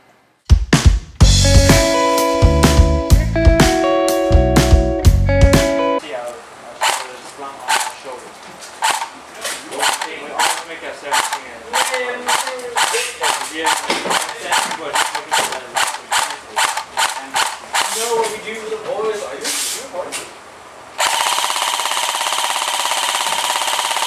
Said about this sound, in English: This thing does shoot around 350 FPS, but let's go out to the chrono and chrono it ourselves.